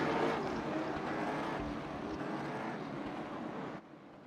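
A late model stock car engine revs at a grassroots race at North Wilkesboro, a loud sustained mechanical drone with rising and falling pitch that cuts off sharply near the end.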